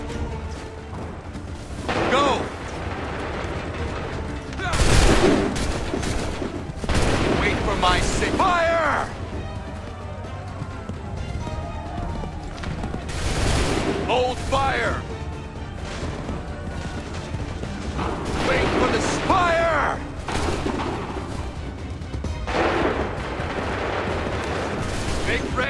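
Musket volleys from a firing squad in Assassin's Creed III at Lexington and Concord: loud, sharp bursts of massed gunfire that crack out repeatedly, with shouted commands and battle noise filling the gaps between them.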